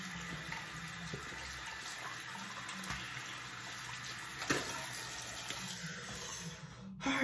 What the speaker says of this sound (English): let me rinse my face off